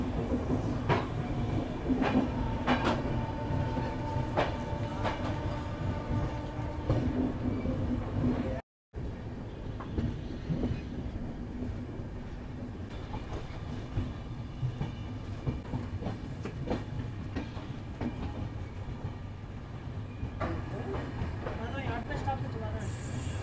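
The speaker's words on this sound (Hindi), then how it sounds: "हमारी ट्रेन का यहाँ से डिपार्चर हो गया" The Ganga Kaveri Express pulls out of a station with a steady, loud rumble and rolling clatter of carriages. The sound runs continuously near at hand, with a brief dropout partway through and faint voices mixed in.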